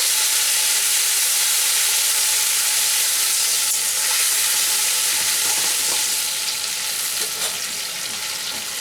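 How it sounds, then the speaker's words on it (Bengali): Onion with tomato paste fries in a pan with a loud, continuous sizzle and hiss, with occasional stirring sounds and no talking. "পেঁয়াজটা একটু ভাজা হতেই আমি দিয়ে দেব একটা মিডিয়াম সাইজের টমেটো আমি পেস্ট করে নিয়েছি, সেটা দিয়ে দেব।"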